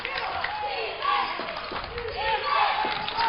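Crowd noise at a high school boys' basketball game in Copenhagen, a steady murmur of spectators with brief cheers and faint thuds, sitting under an announcer's commentary throughout.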